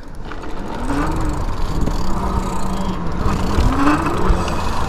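A Senada Saber e-bike with a 1000W Bafang hub motor being ridden, producing a steady, loud rush of wind and road noise with a faint motor whir throughout.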